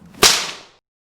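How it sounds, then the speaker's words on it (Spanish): A single sharp whip crack, loud and close, snapping out and fading over about half a second, with no voices. "la castigaron con 12 latigazos"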